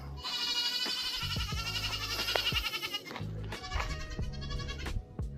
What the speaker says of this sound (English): how do you know when your goats are hungry? This is how.